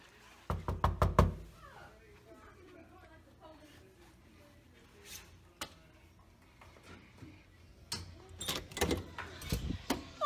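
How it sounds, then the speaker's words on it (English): Knocking on a bedroom door in a home, a quick burst of loud close raps at the start, then scattered quieter knocks and bumps later, with people talking in between. "Where are you knocking on the door like the damn police?"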